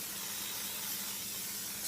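Baking spray containing flour hisses out of an aerosol can onto a cake pan in one continuous, fairly quiet spray lasting nearly two seconds, close by, with no voices.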